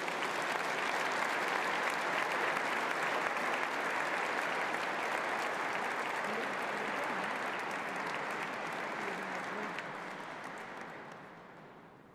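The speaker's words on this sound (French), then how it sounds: "Vous pouvez encore applaudir." Sustained applause from a congregation at a Catholic priestly and diaconal ordination ceremony, a dense steady wash of many hands clapping that holds loud for most of its length before thinning and fading toward the end.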